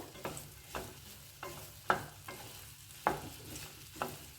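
A ladle stirs frying food in a pot for a traditional festive Brahmin feast, giving regular scraping strokes roughly every half second over a low steady sizzle, close and clear, with no talking.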